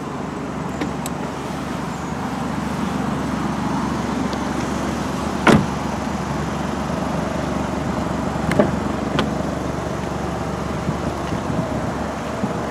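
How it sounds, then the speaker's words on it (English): Steady, broadband rumble of wind buffeting and passing highway traffic, continuous throughout with a couple of brief sharp clicks; no talking. "So I do apologize for the wind noise."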